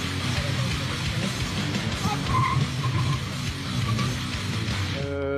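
During gendarmerie emergency driving training on a slippery surface, a police car's tires squeal and skid under a continuous engine drone, with a voice talking over the scene.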